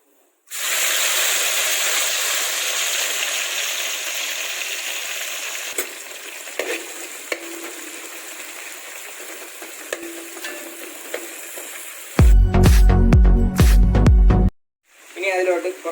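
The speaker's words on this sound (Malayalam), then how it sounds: "ഇപ്പോൾ ഇനി അതിലേക്ക് കുറച്ച് മല്ലിയില, പുതിനയില നമുക്ക് ചേർത്ത് കൊടുക്കാം." Coriander and mint leaves hitting hot oil with spices in a pan for a spicy goat head curry, a loud steady sizzle and hiss with stirring scrapes, ending in a burst of clattering.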